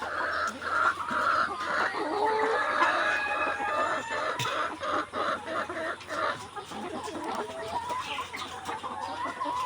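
Caged layer hens cluck and cackle steadily on a poultry farm, several birds calling over one another with a low hum and occasional knocks beneath.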